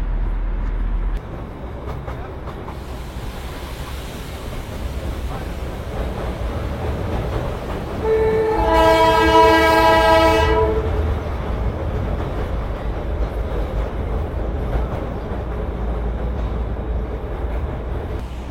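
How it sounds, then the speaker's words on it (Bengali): A Darjeeling toy train runs on the Siliguri to Rongtong line with a steady rolling rumble throughout, and its horn sounds once near the middle as a loud, sustained blast lasting about two seconds. "এসে এই টয় ট্রেনের জার্নির মজা নিন।"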